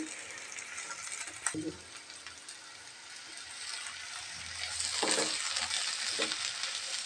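Onion flower stalks fry in a pan with a steady, fairly quiet sizzle, broken by a few sharp clinks and stirring scrapes from a utensil.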